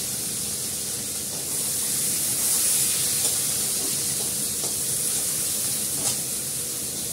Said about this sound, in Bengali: পেঁয়াজ আর আলুটা দিয়ে দেবো একসঙ্গে।